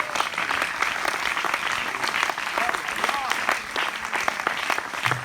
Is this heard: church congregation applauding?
yes